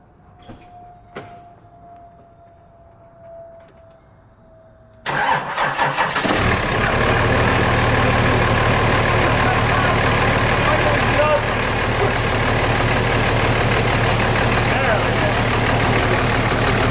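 A truck engine cranks and catches after a few quiet seconds on new, fully charged batteries, then runs loud and steady, rumbling close by for the rest of the clip.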